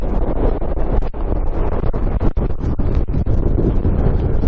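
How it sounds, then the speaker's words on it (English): Strong wind buffets the microphone on the Great Dodd summit in the Lake District, a loud, continuous roar with gusty surges and no voices. "Breezy up here."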